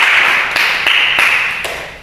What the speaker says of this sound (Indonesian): Beri tepuk tangan pada Farid.